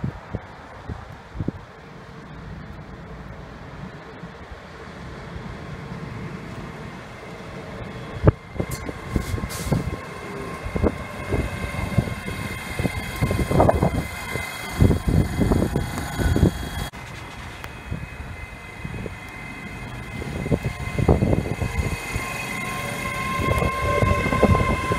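A Hitachi Class 385 AT200 electric train runs past on the railway: a rising rumble and clatter of carriages builds from mid-distance to close by, with rhythmic wheel thumps over the rail joints and gusts of wind buffeting the microphone.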